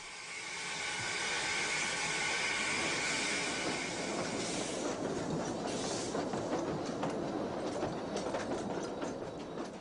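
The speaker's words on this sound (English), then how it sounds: "The southbound train drifts out of the station, the compound Mallet tank making easy work of the falling grades" Steam train hauled by a compound Mallet tank locomotive leaving a station on the Corgo line, drifting downhill with a steady rumble and rhythmic clickety-clack of wheels over rail joints, fairly close and continuous.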